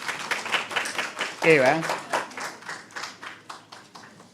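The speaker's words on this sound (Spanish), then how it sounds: "Aplauso para Kuyaya" Scattered audience clapping for a speaker at an international language-revitalization seminar, running under steady talk for a few seconds.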